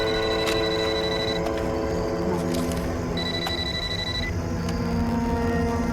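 A telephone rings after the last dialed number is redialed, giving short electronic ringing tones over a dense, loud bed of dramatic film music and effects.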